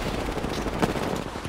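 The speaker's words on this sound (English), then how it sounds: "just don't stop shooting." Rapid, dense gunfire from an Apex Legends match, a continuous loud crackle of shots running through the whole brief moment without any voices.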